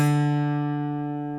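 A single guitar root note, plucked once, then ringing and slowly fading, clear and alone.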